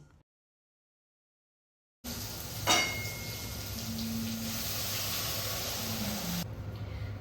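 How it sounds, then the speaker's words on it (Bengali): Spice paste for Bengali egg curry fries in a pan. After a moment of silence, a steady, soft sizzling hiss sets in, with one quick clatter near the start. "আর ডিমের ডালনার জন্য মশলাটা ভালো করে কষিয়ে নিচ্ছি"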